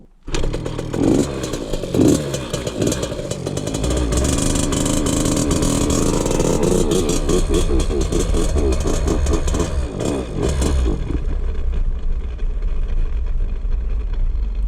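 KTM 50 dirt bike with a carburettor needing attention runs through a test ride, small two-stroke engine buzzing and revving continuously, close and loud, with rattling clatter, no talking.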